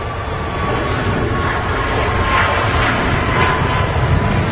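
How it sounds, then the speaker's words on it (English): A Ryanair Boeing 737 at Manchester Airport gives off a steady, loud jet roar that holds evenly for several seconds with no voices. "A Ryanair 737."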